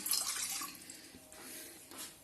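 Water is poured from a cup into a cooking pot while making Kashmiri pink tea, a soft splashing trickle that tapers off, faint and close with no talking.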